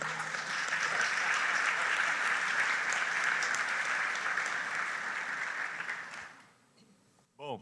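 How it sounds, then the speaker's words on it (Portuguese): An audience at an agribusiness debate event claps in a dense, sustained wave of applause that holds steady for several seconds, then fades out, and a voice begins speaking at the end. "vamos dar uma salva de palmas bem grande para esse time"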